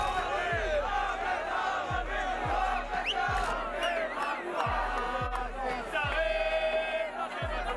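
A street crowd of far-right Israeli settlers screams and chants during violence in Jerusalem, a dense, loud roar of many voices with sharp rhythmic shouts and whoops, sustained throughout without a break.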